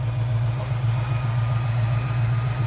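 A 1985 Ford Mustang GT with a 5.0L V8 and five-speed idles steadily, a deep, even rumble up close with no talk over it.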